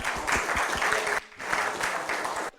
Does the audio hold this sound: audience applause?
yes